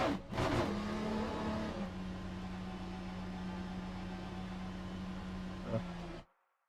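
A Ferrari GT3 race car engine in Le Mans Ultimate holds a steady, droning pitch at close range after a brief rise, then cuts off abruptly into silence.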